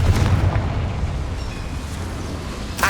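A Confringo fire spell blasting in the game Hogwarts Legacy, a deep rumbling burst with low booming tail fading over a few seconds, heard alone.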